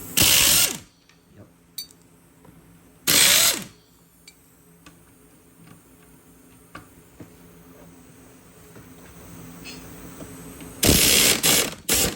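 Ratchet wrench loosening the 3 1/2-inch bolts that hold a lawn mower engine to its frame: loud, close bursts of rapid clicking at the start, again near three seconds and at the end, with quiet, faint clicks and tool handling between.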